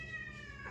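A cat gives a single drawn-out meow in a home kitchen, a clear, close, rising-then-falling tonal cry with no talking over it.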